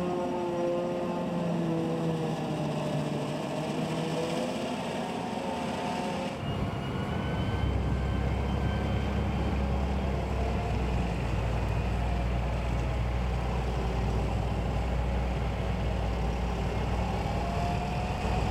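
An old Massey Ferguson tractor, roughly 30 years old, runs steadily during the grass harvest, with a low rumbling engine drone that grows fuller and louder partway through and then holds constant.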